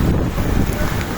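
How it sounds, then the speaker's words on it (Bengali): Strong wind lashes a flooded road in Agrabad, Chittagong, during heavy rain, a loud, dense roar buffeting the microphone without pause for just over a second, no speech heard. "প্রচুর বাতাস।"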